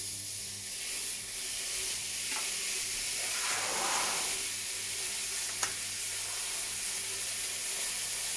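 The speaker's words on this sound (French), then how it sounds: "maintenant que ma poêle est bien chaude, je vais mettre les magrets." Duck breasts (magret de canard) sear in a hot pan with no added fat, giving a steady loud hissing sizzle that swells briefly in the middle, with a small clink near the end.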